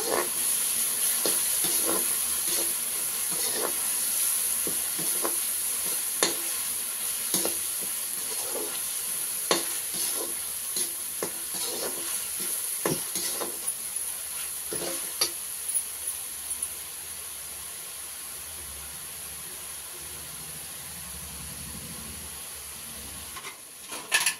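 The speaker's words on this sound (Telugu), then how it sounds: "మసాలా వేసినాక బాగా వేగాలండి. ఇది మసాలా పచ్చి వాసన పోవాలి." Masala sizzles and fries in a pan for a raw banana dish. A steady hiss carries throughout, with scattered clicks and scrapes of stirring. It fades near the end.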